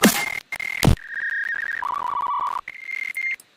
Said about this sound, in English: The Phase Plant synth has a preset that is literally a dial-up tone.